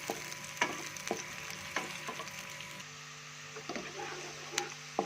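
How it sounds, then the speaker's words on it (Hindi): A soft steady sizzle of onions frying in a pan until lightly browned, with a spoon clicking and scraping against the metal at irregular intervals. "प्याज को हमने ब्राउन करना है अच्छी तरह, ज़्यादा जलाना नहीं है, हल्का ब्राउन करना है।"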